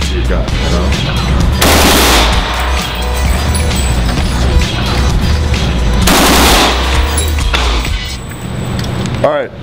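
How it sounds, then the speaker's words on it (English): AK-47 rifle fired in two rapid bursts of loud, sharp shots at an outdoor range, each burst lasting a couple of seconds, with people talking between and under the gunfire. "Definitely the AK-47 because it's wild."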